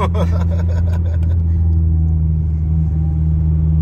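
A car accelerates hard, the engine a loud, close, deep rumbling drone that holds steady, with a brief burst of voices at the start.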